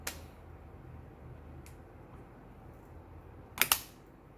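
Faint room hiss, then a sharp double plastic snap near the end as a hard plastic keyboard cover for a Microsoft Surface Pro clicks firmly into place, close by.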